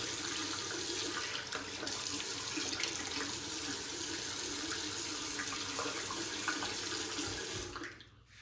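Tap water runs steadily into a sink as a face is rinsed after a straight razor shave, a continuous close splashing hiss that cuts off near the end.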